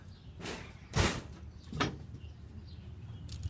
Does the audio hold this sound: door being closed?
yes